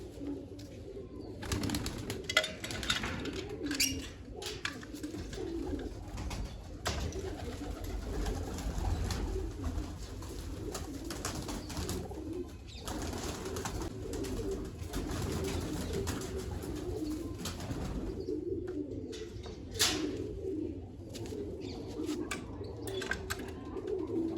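Domestic pigeons kept in a loft coo repeatedly and steadily at close range, their soft layered calls overlapping throughout, with occasional chirps and brief wing flutters breaking through.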